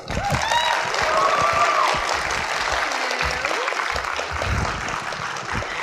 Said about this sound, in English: let's enter a big round of applause for Tricia Helfer.